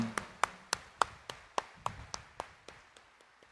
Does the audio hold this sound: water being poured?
no